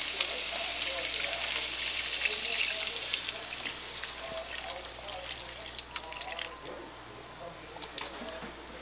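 Two cups of beef stock poured onto ground beef in a pan for shepherd's pie, a bright hissing sizzle with wet bubbling that gradually eases, a few sharp drips and pops near the end.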